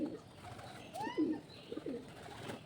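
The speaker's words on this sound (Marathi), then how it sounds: "वरून आता कबुतरांचे आवाज पण येतात" Pigeons coo from overhead beside waist-deep water, with several soft, low, throaty calls that come and go across the short stretch, and no voices over them.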